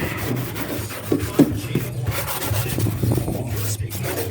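A green Scotch-Brite pad hand-scrubs a metal part from a 1966 Toyota Stout 1900 truck, making a close, gritty back-and-forth rasp in uneven strokes with no speech over it.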